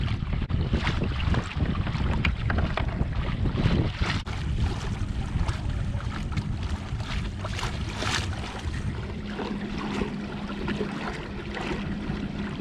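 A Motorguide Xi3 trolling motor drives a Hobie Outback kayak across open water, its steady drone mixed with heavy wind buffeting the microphone and the wash of water along the hull.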